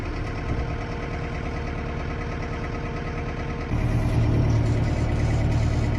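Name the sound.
farm engine starting and idling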